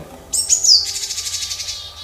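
Tit alarm call warning of a hawk in the sky: a sharp high chirp followed by a rapid, close series of thin repeated notes, loud and clear with no voices.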